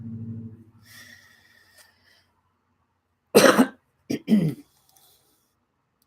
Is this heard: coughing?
yes